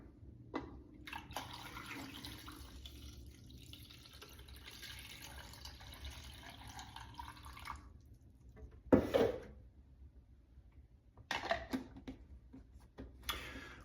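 Water pours steadily into a film developing tank for several seconds, then stops, followed by a couple of short splashy bursts and clunks.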